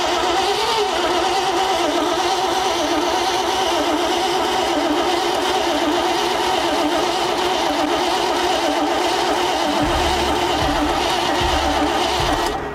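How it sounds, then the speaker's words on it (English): Old truck engine abandoned in the woods for over 50 years cranks, catches and runs with a rough, uneven mid-pitched rumble, loud and close, then drops to a lower idle near the end. "we definitely know we have an engine that's going to run"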